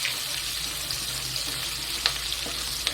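Chopped onions fry in oil while being stirred for a jackfruit and prawn curry, making a continuous moderate sizzle with a few soft clinks of the spatula and no voice.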